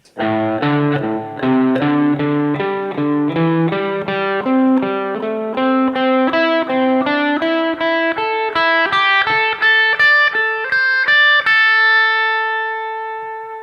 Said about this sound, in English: So this pentatonic scale looks and sounds like this.